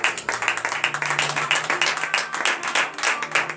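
A church congregation claps together at a morning prayer service in Benin, steady rhythmic hand claps filling the space alongside a sustained low tone, with no talking.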